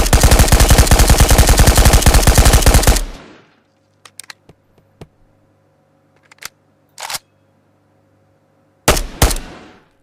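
An AK rifle in the VR game Ghosts of Tabor fires a fast, loud burst of automatic gunfire for about three seconds. Scattered clicks and clacks of weapon handling follow in near silence.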